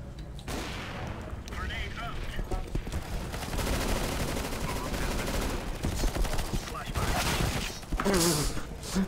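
Continuous gunfire and explosions in a shooter video game, dense overlapping shots and booms filling the scene with a voice talking over them.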